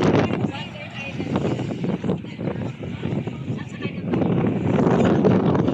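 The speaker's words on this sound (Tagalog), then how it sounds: "malakas ang hangin, malalaki ang alon" Strong, steady wind roars across the microphone with rushing water and waves beneath, loud and continuous throughout, on a beach shore in Calamba, Laguna.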